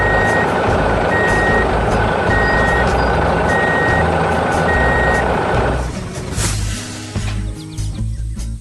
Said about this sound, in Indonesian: Setelah tugas selesai, truk hijau itu melaju pergi dengan teratur.